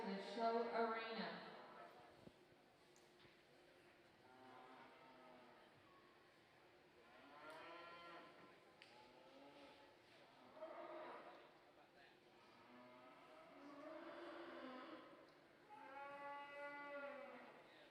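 Cattle at a heifer show arena moo repeatedly in long, loud calls, several overlapping from near and farther off, over steady crowd and arena murmur, with a voice on the public address.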